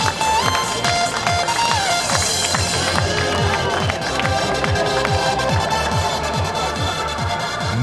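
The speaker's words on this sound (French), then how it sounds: "Applaudissements pour Manu et Florence." Audience applause at a Half Ironman triathlon award ceremony at Vouglans, a crowd clapping in a fast rhythmic unison beat with scattered cheers and background music, sustained and lively throughout.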